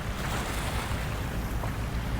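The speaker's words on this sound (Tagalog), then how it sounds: "Lakas ng hampas ng alon." Strong waves break against rocks along Manila Bay during stormy weather, a dense, continuous wash of surf mixed with wind buffeting the microphone, with no voices.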